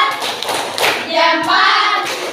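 A primary school class does a thumbs-clap routine, a brief burst of quick soft claps and taps from many hands, with children's voices chanting along.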